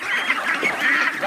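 Farm ducks quacking in a rapid cluster of overlapping nasal calls, fairly close and moderately loud, with no talking.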